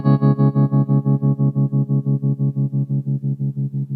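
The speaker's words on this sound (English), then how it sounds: "I'm so happy with that trem sound." Guitar through a Boss GX-10 processor with tremolo engaged: a sustained distorted chord pulses on and off in a fast, even rhythm, about five throbs per second, slowly fading over the stretch; loud and close, no voices.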